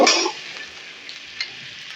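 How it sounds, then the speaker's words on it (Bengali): Butter is stirred as it fries in a pan for prawn butter masala: a loud hiss bursts at the start, then settles into a soft, steady sizzle with one faint scrape. "দিয়ে দেব অল্প করে বাটার একটু নেড়ে চেড়ে নেব"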